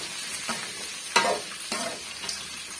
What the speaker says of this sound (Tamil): இப்போ இது கூடவே நம்ம அரிஞ்சு வச்சிருக்க தக்காளி பழமும் சேர்த்துக்கலாங்க சேர்த்துட்டு இதையுமே நல்லா வந்து வதக்கி விட்டுடலாம்